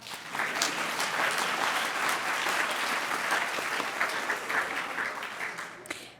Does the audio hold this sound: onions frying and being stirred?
no